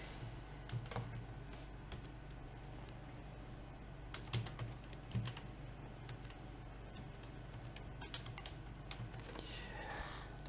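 Keys tapped on a computer keyboard while an IP address is entered, a quiet run of irregular light clicks with a few firmer strikes, close and alone over a low steady room hum.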